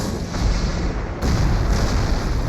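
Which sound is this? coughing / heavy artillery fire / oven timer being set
heavy artillery fire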